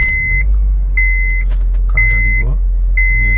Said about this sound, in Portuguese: eu acho que é o cinto que tá apitando